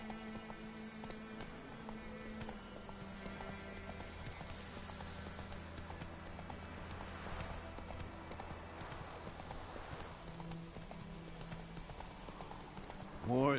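Steady rhythmic clip-clop of a horse's hooves galloping in The Witcher 3 video game continues throughout under a layer of background music, with a brief loud burst at the very end.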